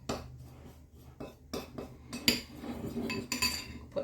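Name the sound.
mixing cookie dough with flour and brown sugar in bowl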